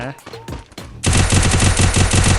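Rapid automatic gunfire in a first-person shooter video game, a loud close burst of fast repeated shots that starts abruptly after a moment of voices and continues steadily to the end.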